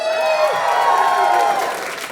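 An audience of drag show fans cheers and applauds, a sustained wash of clapping and whoops that holds steady for a couple of seconds before easing slightly, with a high held voice ringing over the crowd at the start.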